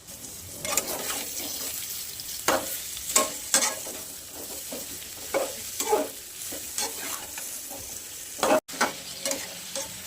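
Stuffed ridge gourds go into a hot frying pan with turmeric, sizzling steadily while a spoon stirs and scrapes, with sharp clinks and pops scattered across the sizzle.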